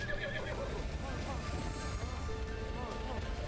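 A horse whinnies in the video game Breath of the Wild during a boss fight, the neigh rising over steady game music and ambience, with faint hoofbeats beneath.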